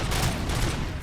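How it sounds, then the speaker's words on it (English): A powerful pistol fires in the video game RoboCop: Rogue City, a loud, dense, continuous burst of gunfire with no pauses and no talk. "having the pistol of RoboCop is like super powerful"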